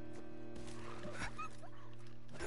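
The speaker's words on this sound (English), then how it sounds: "That is a strong attack dog." Scorched attack dog in the video game Fallout 76 giving a few short barks and yips over a steady game background hum, moderately faint.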